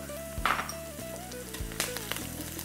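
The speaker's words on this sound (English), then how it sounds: "we're gonna fry these now until they're a light golden brown" Chopped onions with curry leaves and coarse salt sizzle in a hot pan for a South Indian curry, a steady soft frying hiss with a few faint clinks under a low background hum and no voices.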